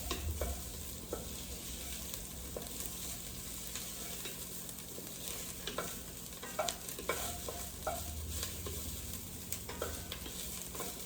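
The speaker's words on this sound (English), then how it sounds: "Trying to get this all stirred up here." Toasted tomatoes are stirred in a pot for one-pot spaghetti alla vodka, with steady sizzling and frying under repeated scraping stir strokes, close and alone with no talk.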